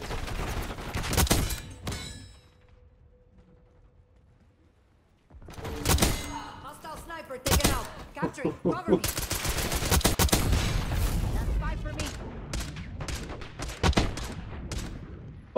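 Video game gunfire bursts from a gun in a multiplayer shooter, loud rapid volleys in clusters with a quiet pause early on, then sustained shooting near the end.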